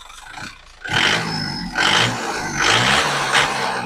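A 2007 Isuzu Panther LS turbo diesel engine revs up in a few rising bursts, loud and close, with a rough mid-range roar and no talking.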